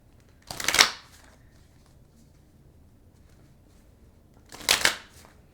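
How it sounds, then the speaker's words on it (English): Two brief bursts of cards riffling together, a quick rustling shuffle followed by a pause, then a second shuffle a few seconds later, close and crisp. "Okay, let me shuffle."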